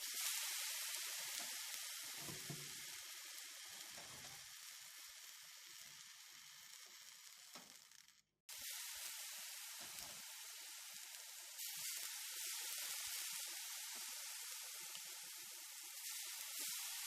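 Dough frying in hot oil while being turned and cooked through, a steady bright sizzle that runs throughout, briefly dropping out around the middle before resuming strong and continuous.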